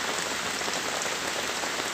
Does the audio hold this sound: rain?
yes